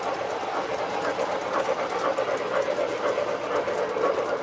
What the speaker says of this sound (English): you just don't hear anything but like one train.